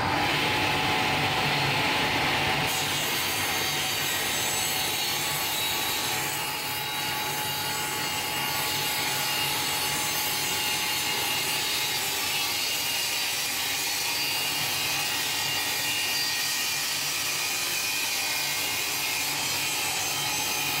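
A table saw cutting small pieces of wood runs steadily and loudly for about twenty seconds, its constant whine and grinding rasp unbroken, with no talking.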